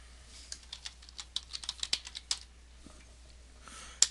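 Someone types on a computer keyboard, with a quick run of light, close key clicks that slows and then ends with one sharper tap.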